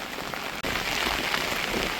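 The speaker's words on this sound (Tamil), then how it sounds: "பாருங்க இப்போ மழை அப்படியே" Steady rain falls outdoors in a windy village, a dense, even hiss heard close and loud throughout with one momentary dropout.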